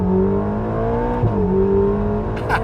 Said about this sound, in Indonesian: sekarang kita coba bagaimana suara mesinnya kalau atap ditutup ini